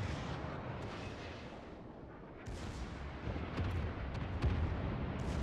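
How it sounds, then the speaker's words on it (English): Main battery guns of a warship fire at an enemy ship in World of Warships, heavy rumbling booms over a dense roar of battle noise, with a sharper burst or two toward the end. "I just hit the Podvoisky with my main battery guns."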